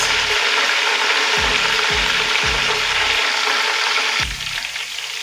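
Onions and a bay leaf fry in hot oil with a loud, steady sizzle that runs throughout, broken by a few rhythmic scraping or stirring strokes and a sharper knock near the end.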